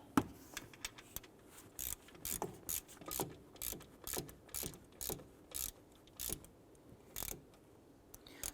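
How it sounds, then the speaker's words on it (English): A hand ratchet snugs down the alternator bolts on a Ram 1500, making repeated short bursts of clicking pawl ratcheting at a steady back-and-forth rhythm, close and fairly quiet, without talk. "Let's go ahead and tighten down the two alternator bolts."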